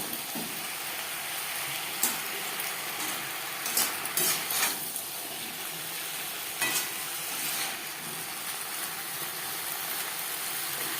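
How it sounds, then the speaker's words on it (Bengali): Potatoes and eggplant frying together over high-to-medium flame, a soft steady sizzle with occasional scrapes and clinks of a spatula stirring the pan. "আলুর সাথে বেগুন বেশ ভালো করে মিক্স করে দেব।"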